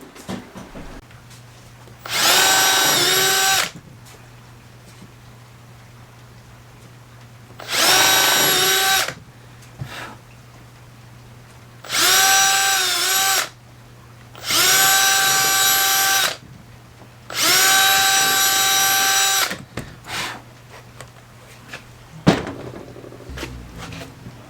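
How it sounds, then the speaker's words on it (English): A power drill whirs in five separate bursts of a couple of seconds each, biting into wood, with quiet pauses between them. "Now we're just going to pre-drill them all and put screws in them."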